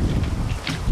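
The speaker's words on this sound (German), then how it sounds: "Der Wind hat ganz schön aufgefrischt" Strong outdoor wind gusts buffet the microphone beside a tent, a close, rough low rumble with irregular bursts and flaps, and no voices.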